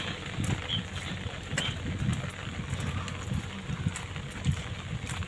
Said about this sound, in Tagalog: Malakas talaga ang hangin.